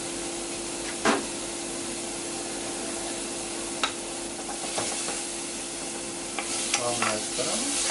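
Banana slices sizzle steadily in a hot pan, a constant close frying hiss broken by a few sharp scrapes and taps as they are stirred, with no talking.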